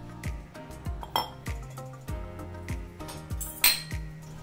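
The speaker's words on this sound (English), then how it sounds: "Mix the cheese, the pepper, and the salt with the breadcrumbs." Repeated clinks and scrapes of a utensil against a bowl as cheese, pepper and salt are mixed into breadcrumbs, an irregular close rhythm of knocks with one sharper ring near the end.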